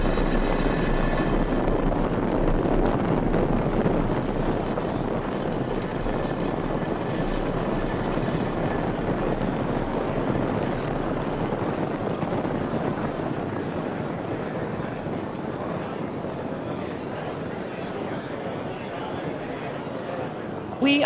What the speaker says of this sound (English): Engines full power. And liftoff of Transporter 8.